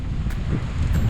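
Wind gusting into the microphone by the beach at Wallaroo, Yorke Peninsula, a low rumbling buffet with brief rustling swells, steady and fairly loud.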